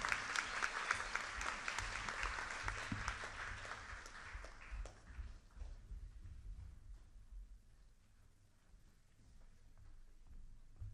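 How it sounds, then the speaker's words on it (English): An audience at a school middle school honors program applauds honored students, loud dense clapping that gradually thins and fades to scattered claps and quiet room noise by the end. "You give these students a round of applause."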